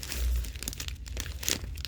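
A plastic bag of pasta crinkles and rustles close by at a soft level, with irregular crackling handling noises and no talking.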